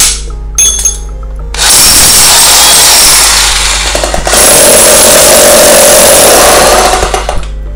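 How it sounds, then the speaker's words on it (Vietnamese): Bosch three-function 220V electric hammer drill hammering in chisel mode, a loud sustained rattling roar that starts after a short burst, cuts out briefly near the middle, then resumes and runs steadily to the end. "bỏ mũi đục là đục không cần chỉnh bất cứ chút nào ha"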